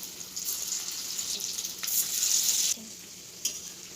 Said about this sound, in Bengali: এবার বড়াগুলি ভেজে নেব